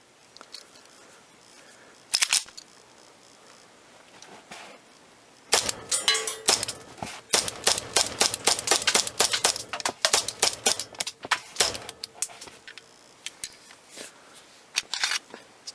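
An IMI Jericho 941F pistol, an Israeli police trade-in, fires Winchester white box 124 grain full metal jacket rounds: one sharp report, a pause, then a rapid string of loud, close, cracking shots.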